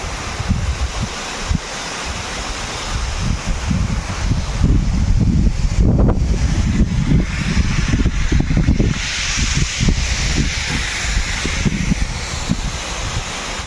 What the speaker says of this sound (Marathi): तर तुम्हाला हा थोडा धबधबा दाखवतो